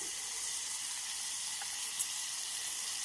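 Carrots tipped into a tiny frying pan for a miniature vegetable biryani give a steady, faint sizzle, a continuous bright hiss with one small pop near the end and no talking.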